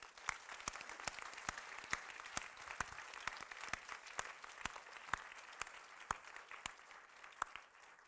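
A modest crowd applauds at a conversation event with artists Miranda July and Jeremy Deller, soft continuous clapping with a few sharp, distinct claps standing out near the listener.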